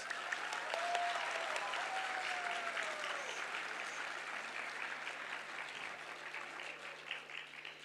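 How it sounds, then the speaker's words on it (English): A graduation ceremony audience gives the parents a round of applause, a broad, distant wash of clapping that holds steady and slowly thins toward the end. "let's please give them a well-deserved round of applause"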